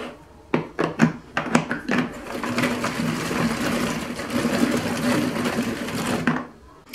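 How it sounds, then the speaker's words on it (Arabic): A blender grinds butter, parsley and garlic, starting with several short pulsed bursts and then running steadily as a loud, continuous whir before cutting off. "صافي غادي نطحن كلشي مزيان"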